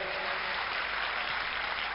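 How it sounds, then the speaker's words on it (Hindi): Dense, steady applause from a large crowd, continuous and even throughout with no voices rising above it. "एक बार जोरदार तालियों से राजू श्रीवास्तव जी को बधाई दें।"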